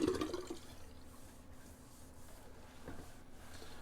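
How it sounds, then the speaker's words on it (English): Shaving water draining from a bathroom sink after a razor shave, a low steady gurgling wash of water that swells briefly at the start and again near the end, with no talking. "let's drain the old sea monster sink. Clean up my nasty water mess there."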